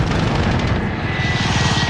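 A helicopter in Call of Duty Warzone thrums nearby with a fast, pulsing rotor beat, layered over a dense, loud engine roar that holds steady throughout.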